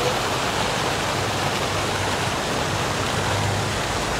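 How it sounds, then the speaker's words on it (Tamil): The Three Rivers Fountain in Victoria Square, Adelaide, South Australia, gives a dense, steady rush of falling water, loud and close, with no voices. "இதுக்கு பேர் வந்து த்ரீ ரிவர்ஸ் ஃபவுண்டன்."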